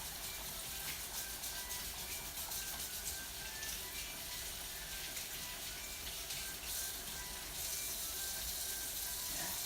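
Kitchen tap water runs steadily at moderate level while waiting for it to heat up during spaghetti cooking, a continuous even hiss with no speech over it.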